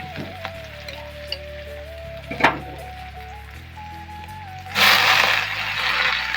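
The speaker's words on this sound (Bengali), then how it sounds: "শাকটা এখন ভাজা করে নিচ্ছি পেঁয়াজ দিয়ে" Jute leaf greens frying with onion in a pan, a low steady hum under most of it, one sharp knock, then a loud burst of sizzling near the end.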